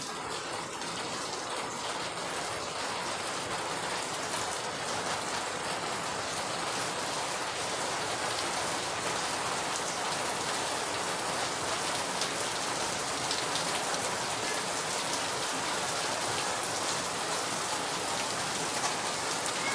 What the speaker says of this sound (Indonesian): Sambil ditemani air hujan ya bro, moga-moga krungu suarane.